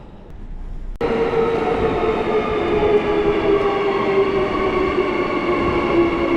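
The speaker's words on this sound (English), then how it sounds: "The last train is about to leave." A Perth airport line train rumbles loudly with a sustained droning whine, starting abruptly and holding steady as the carriage moves.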